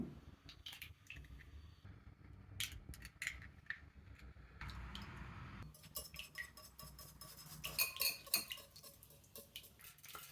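Three eggs cracked into a bowl for garlic omelette rice, then beaten: clinking utensil-on-bowl taps and scraping, building to a brisk, close run of clinks near the end, with no talking.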